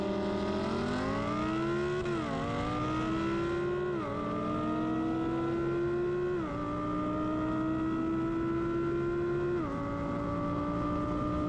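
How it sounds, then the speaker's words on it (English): An Audi R8 accelerates hard through its first couple of gears, its engine note climbing in pitch, then dropping briefly at each slow shift, four times in a row, loud and steady with no talk. "It's his first couple gears shifting"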